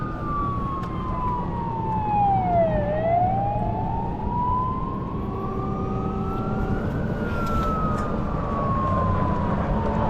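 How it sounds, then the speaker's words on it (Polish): A water ambulance boat's siren wails in rising and falling sweeps out on a lake, loud and steady over a constant engine and water rumble, with no talking. "wodna karetka pogotowia"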